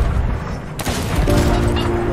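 Ship cannons fire in the pirate game Sea of Thieves, a loud booming blast with crackling gunfire over dense background noise, and players talk during it.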